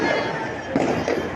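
New Year's fireworks and firecrackers in Cagliari pop and crackle in a dense outdoor barrage, with sharp bangs over a steady roar, while a voice talks over the noise.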